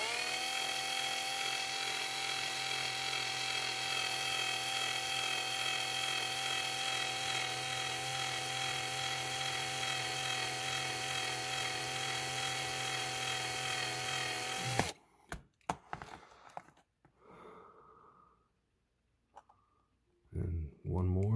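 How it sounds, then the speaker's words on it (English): A small drill boring a tiny pilot hole into a die-cast Redline Charger toy car casting whines steadily and close for about fifteen seconds, then stops, leaving scattered handling clicks and faint noises. "So I am going to start with a little tiny pilot hole, just to be safe."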